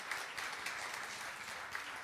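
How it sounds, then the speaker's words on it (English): Audience applauding in a church Sunday celebration service, a steady wash of clapping hands lasting throughout at moderate distance, with no talk over it. "let's give her a round of applause"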